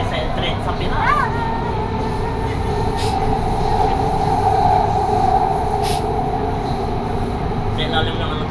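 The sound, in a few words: Doha metro driverless train running underground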